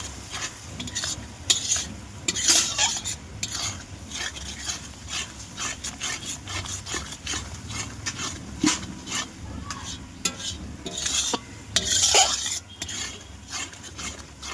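Mutton being stirred with chili paste, turmeric and salt in a pan over a wood fire, close scraping and clinking strokes of a utensil against metal in an irregular rhythm, with a soft steady sizzle underneath.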